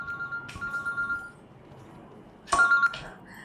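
A phone ringtone plays as short bright tonal bursts, first a repeating pattern, then a pause and a second louder burst, fairly near over quiet background.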